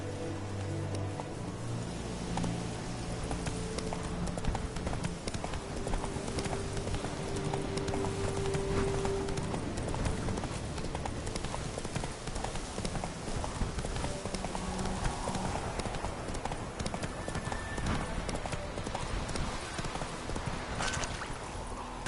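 Horse Roach gallops in The Witcher 3, a steady, rapid run of hoofbeats that carries on throughout at moderate loudness over a low game backdrop.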